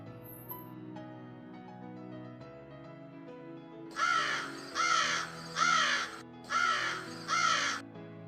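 A cartoon crow caws in five loud, evenly spaced bursts in an animated comedy story about a crow, a monkey and a donkey, following a quieter stretch of soft background music.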